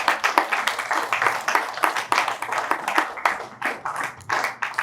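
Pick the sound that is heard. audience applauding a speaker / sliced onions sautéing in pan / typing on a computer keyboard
audience applauding a speaker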